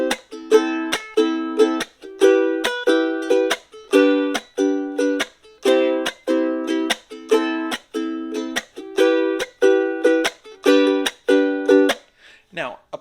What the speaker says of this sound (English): A chuck or a chunk or a palm mute is when you hit all 4 strings with your hand